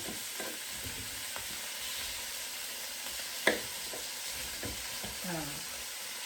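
Salmon being chopped up in a hot pan with peppers and onions, a steady sizzle broken by scattered utensil scrapes and taps against the pan, one sharper knock midway, close and moderately quiet.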